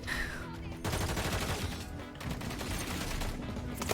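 Heavy AK50 rifle fire in Call of Duty, a dense loud barrage of rapid shots layered over game noise and music, continuous for the whole stretch with a short dip midway.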